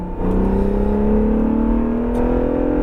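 An Acura NSX sports car accelerates on a driving course. The engine note rises steadily and strongly, loud and close, with a whirring mechanical tone and no voices.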